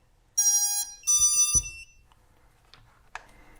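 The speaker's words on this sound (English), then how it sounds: "And look at that, it's beeping on command." A ViFly Finder Mini lost-model buzzer sounds on command in two loud, shrill electronic beeps, close by and alone, followed by faint clicks and a short chirp.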